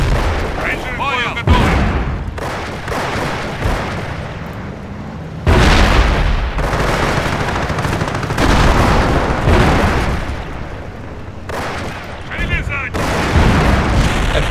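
A rocket artillery barrage in Company of Heroes: Eastern Front, with Russian launchers each firing 16 rockets, makes a loud, dense string of booming blasts and explosions rolling over one another without pause.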